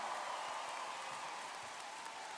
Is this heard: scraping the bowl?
no